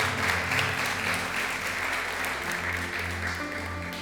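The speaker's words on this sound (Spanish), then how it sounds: "Denle un aplauso al Señor por eso." A church congregation claps steadily and loudly for about four seconds, with sustained music tones underneath the applause.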